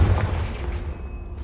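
A Confringo blasting spell going off in a Harry Potter video game, a single heavy boom right at the start that decays into a low rumbling tail over about a second.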